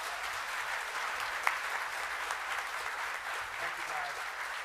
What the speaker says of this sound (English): So if I can get a round of applause for these young ladies.